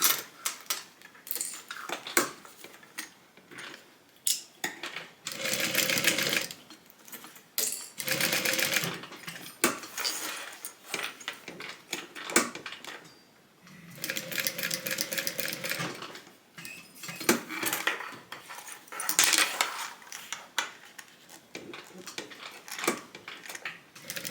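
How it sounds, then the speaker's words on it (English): A sewing machine stitches a tote bag in several bursts of fast rhythmic whirring and clicking, separated by pauses with small clanks and handling noises, close by. "I'm just going to sew an X, and then I'm going to sew on the bottom"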